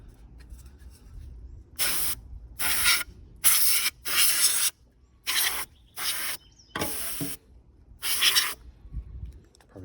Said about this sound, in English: I brought it out here to spray it, all the dust out.